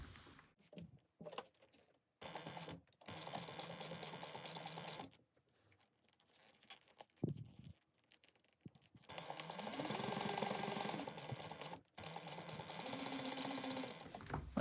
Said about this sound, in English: And then we're going to sew those down also at 1/8 of an inch.